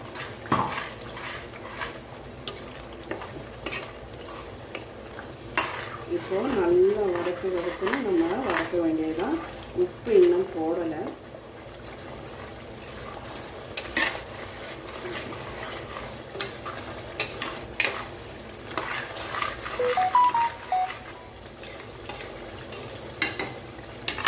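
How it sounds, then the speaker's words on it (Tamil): Ground spice powder goes into boiling oil for a curry leaf and mint thokku and is stirred, with repeated scraping and clinking of a utensil against the pan over a steady fry, while a voice talks throughout. "இந்த எண்ணெய் கொதிச்சிட்ருக்கும் இருக்கும்போதே நம்ம அரைச்ச பொடியும் சேர்த்துடலாங்க"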